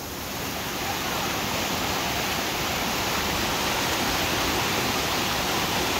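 A flooded river rushes loudly and steadily, a dense, constant roar of churning water with no pauses and no voices.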